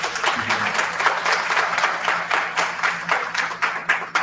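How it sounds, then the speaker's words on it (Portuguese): An audience claps for a speaker at the close of an academic talk, with clearly distinct hand claps in a sustained, fairly loud round of applause that continues steadily to the end. "professor doutor Romário Antônio Silva, a quem damos uma salva de palmas."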